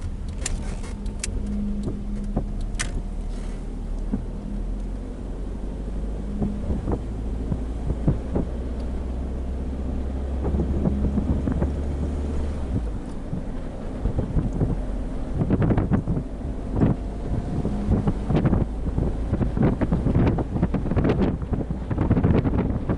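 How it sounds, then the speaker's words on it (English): A Nissan Primera drives along in third gear at about 50 km/h and 2000 rpm on a sunny day, a steady low engine and road rumble with wind buffeting across the microphone and no speech. "With the third gear, we are exactly at 50 kilometers per hour with exactly 2000 rounds per minute."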